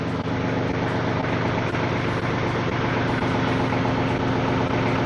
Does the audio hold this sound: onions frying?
no